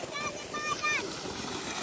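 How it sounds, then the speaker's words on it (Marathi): Irrigation water gushes under pressure into a sugarcane field on a village farm, a brief, close, continuous rushing splash with voices faintly mixed in. "पाणी किती जोरात प्रेशर मध्ये येते बघा."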